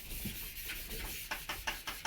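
Hand sanding on a car's clear coat produces a soft, steady rubbing hiss close to the microphone, turning into a series of short, rhythmic strokes toward the end.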